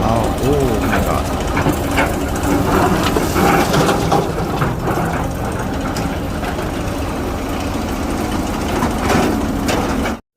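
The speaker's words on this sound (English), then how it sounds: "Oh, this is excavator. Wow, small excavator." Small excavator working nearby during a machine wash with water, a steady dense mechanical engine rumble with crunching and clattering throughout, with voices mixed in.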